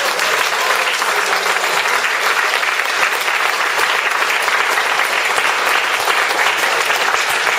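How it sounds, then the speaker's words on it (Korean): A lecture-hall audience breaks into dense, sustained applause, loud and even, with many overlapping claps forming a continuous roar that neither builds nor fades. "다시 한번 뜨거운 박수 부탁드립니다."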